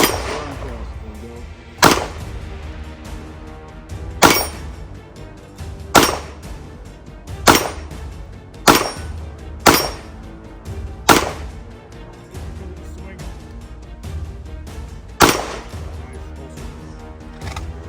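Handgun fired at a target on a shooting range: about ten sharp, loud single shots spaced roughly every one to two seconds, each with a short ringing decay, in between faint background sounds.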